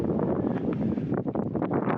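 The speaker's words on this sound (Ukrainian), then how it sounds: "І тут починається вітер." Strong gusting wind buffets the microphone on a rocky seashore at Leucate, France, a dense continuous roar with rustling bursts throughout.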